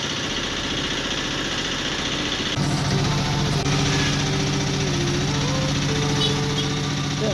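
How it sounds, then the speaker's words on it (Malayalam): A diesel engine idles steadily on a 2011 Bajaj RE auto rickshaw, a loud, close, rattling chug. Partway through the clip the tone deepens and thickens as the engine note shifts. "വാഹനം ബജാജിൻ്റെ RE-ഡീസലാണ്. 2011 മോഡൽ വാഹനമാണ്."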